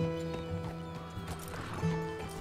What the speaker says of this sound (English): That's my old horse there.